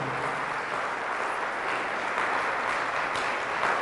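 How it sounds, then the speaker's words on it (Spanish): A church congregation applauds Jesus during a Mass. The clapping is steady and continuous, even and somewhat distant, and lasts the whole time. "Fuertes aplausos a Jesús nuestro Señor."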